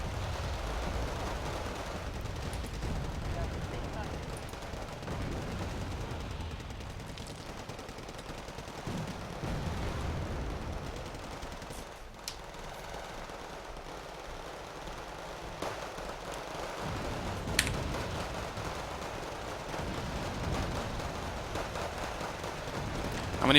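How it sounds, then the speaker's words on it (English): Artillery fire and distant explosions in the Wargame Red Dragon strategy game, a continuous rumbling barrage with scattered sharper impacts at low level. "Lots of artillery coming in."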